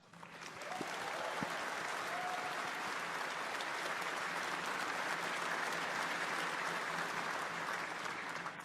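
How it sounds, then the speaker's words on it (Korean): Sustained audience applause for the SpaceX Starship engineering team fills the room, a dense steady wash of clapping that swells within the first second and holds loud and even throughout. "그러니 스타쉽 팀에게 큰 박수를 보냅니다."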